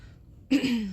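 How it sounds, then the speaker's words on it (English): A single short, raspy throat clearing close to the microphone, following a brief moment of near silence. "Sorry, I had to clear my throat."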